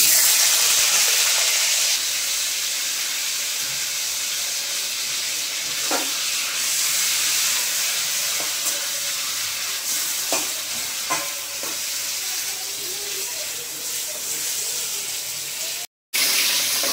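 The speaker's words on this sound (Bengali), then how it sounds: "মাছগুলো ভেজে তুলে রেখে নিচ্ছে" Pomfret fish fry in hot oil with a continuous, fairly loud hiss and sizzle, broken by a few soft clatters, with no speech.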